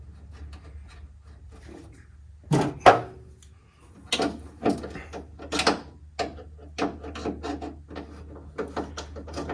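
A radio cable clamp being tightened by hand on an M38A1 jeep, heard as scattered metallic clicks, scrapes and ratcheting knocks, close and fairly quiet, with a low steady hum underneath.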